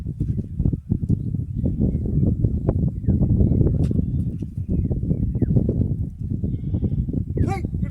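A goat bleats among a busy, noisy background, with a clear bleat near the end.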